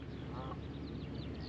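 Ducks and geese with goslings on a farm lake give a few faint honks and quacks over steady outdoor background noise, fairly distant.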